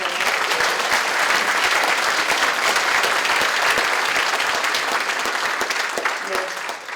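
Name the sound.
applause at a ceremony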